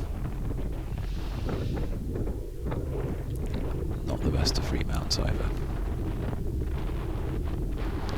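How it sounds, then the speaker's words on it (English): Strong wind buffets the microphone on an exposed, windy section of a Leicestershire cyclocross race course at Mallory Park, a constant low rumbling roar throughout with a rider speaking over it. "You can hear the wind howling."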